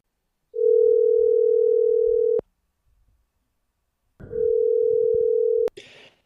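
Telephone dial tone opening a phone chat segment: a steady low tone holds for about two seconds, cuts off, then sounds again for over a second after a short pause, ending with a brief click and faint noise.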